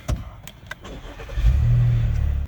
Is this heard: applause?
no